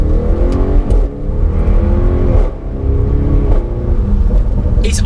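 An Audi RS6 Performance with an Akrapovic titanium exhaust purring, a loud, close, steady deep rumble with rich low harmonics and slight swells in engine note, heard alone.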